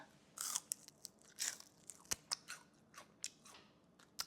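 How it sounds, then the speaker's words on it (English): Tough, bolted garden greens chewed up close, producing a dozen or so crisp, crunchy bites in an uneven rhythm over a few seconds, with no talking. "It's very not easy to chew."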